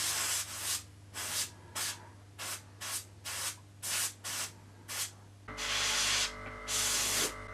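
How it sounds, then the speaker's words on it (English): Airbrush spraying brown paint in a mottled pattern on a model, a series of about ten short hissing bursts in a quick rhythm, then longer continuous sprays over a low steady compressor hum. "I'm now going to vary it by changing colour and spraying another pattern with the brown."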